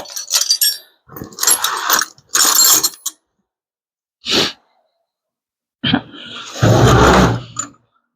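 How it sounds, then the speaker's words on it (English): Hand ratchet loosening clutch basket bolts on a Kawasaki KX125 dirt bike, heard as several short, close clicking bursts separated by pauses, with a longer ratcheting run near the end. "so I'm just going to grab a hand ratchet"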